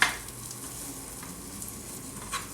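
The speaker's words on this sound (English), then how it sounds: "we could hear our string beans, our garlic, a little bit of olive oil and butter, just heating these through" String beans and garlic heat in olive oil and butter in a pan, giving a soft, steady sizzle with light stirring scrapes and a couple of brief utensil clinks, fairly quiet and without talk.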